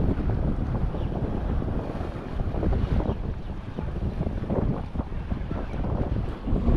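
Strong sea wind buffets a small traditional fishing boat, a loud, continuous roar with rough waves mixed in, gusting slightly but never letting up.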